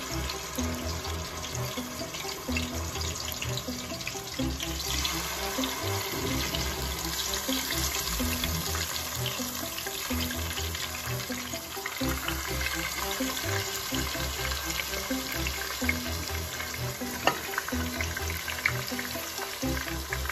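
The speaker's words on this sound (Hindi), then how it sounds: "इसमें चिकन को ऐड करते जाएंगे" Chicken pieces added to hot oil or ghee in a pan, giving a steady, loud, continuous sizzle and hiss that holds through the whole stretch with no talking.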